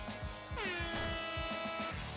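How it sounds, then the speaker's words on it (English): YV's air horn in the Nuclear Throne video game blares once as a loud, sustained honk over a thumping game beat, holding for over a second before cutting off. "That air horn is in fact part of the game, and it's on the B button."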